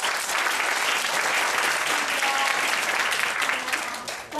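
A live audience claps loudly and steadily at a skincare product presentation, a dense, even burst of applause that holds throughout and tapers slightly at the end.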